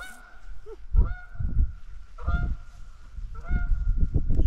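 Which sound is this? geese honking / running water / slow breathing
geese honking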